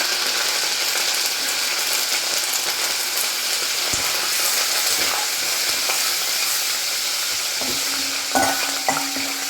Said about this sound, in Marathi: चार पाच लसणाच्या पाकळ्या कमी कढीपत्ता टाकूया